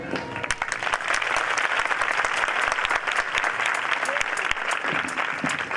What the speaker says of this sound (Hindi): तो इतनी तालियां उसके लिए थी ना, मसीह के लिए बजाई जा रही है मेरे साथ।